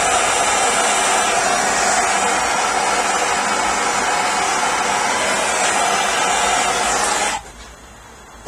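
A gas torch roars steadily up close as it heats a copper pipe fitting for soldering, a loud unbroken hiss that cuts off abruptly near the end.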